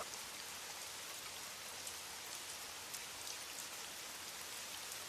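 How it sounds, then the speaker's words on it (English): Steady rain pours down in a dense, even hiss with scattered drop patters, faint and continuous with no voices, as in a downpour over a deserted highway at night. "Rain battered the windshield as Anna drove down the deserted highway."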